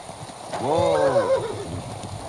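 Horse in Kingdom Come Deliverance 2 neighing loudly in a long, shaking whinny that rises and falls, with soft hoof clops around it.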